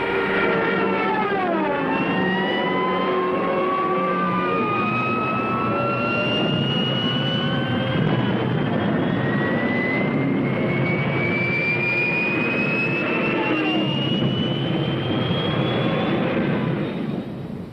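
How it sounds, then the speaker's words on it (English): Stuka dive bombers attacking in a desert battle: loud aircraft engines roar while a wailing siren rises steadily in pitch through the dive, sustained and close for the whole stretch. "Rommel sends in Stuka dive bombers to blast the defenders from their emplacements"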